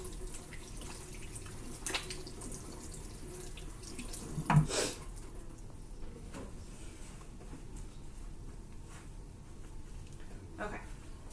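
Tap water running into a sink while nails are rinsed, a soft steady faint splash and trickle throughout with a brief louder splash midway, heard from close by.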